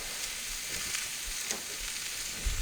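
Butter and food fry on a Blackstone griddle for hibachi in a continuous close sizzle, with soft scraping stirs and a low thump near the end, no talking.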